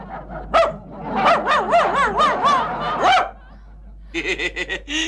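A man imitates a dog barking in a rapid series of loud, close, yelping barks, followed after a short pause by a quick run of sharper yips.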